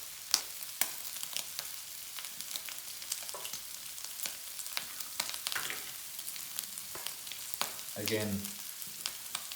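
Two eggs whisked with a fork, with quick irregular clicks and scrapes repeating throughout over a faint background hiss, and a brief voice near the end.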